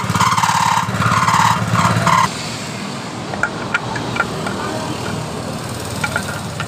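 A small Honda Supra Fit motorcycle engine runs close by, buzzing higher at first, then dropping to a steady idle with occasional sharp ticks, checking a rough rattling noise.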